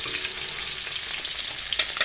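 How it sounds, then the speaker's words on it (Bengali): Fish frying in a pan at home, a steady close oil sizzle with small crackles and stirring sounds, no talking. "এখানে মাছগুলো ভেজে নিই"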